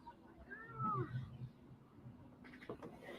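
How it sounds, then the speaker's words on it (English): Cat shut out behind a closed door, meowing in a few wavering cries that are muffled and faint over a quiet room background. "I had to like lock this cat out."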